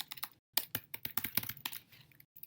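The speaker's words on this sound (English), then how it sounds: "So let's just type Keller Williams, Portland." Close computer keyboard typing in quick irregular clusters of sharp key clicks with short gaps between, entering a search.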